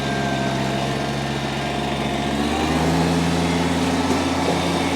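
A 2019 Kubota BX1880 18 HP diesel sub-compact tractor with belly mower reversing, its engine droning steadily up close with a shift in tone partway through, no talking.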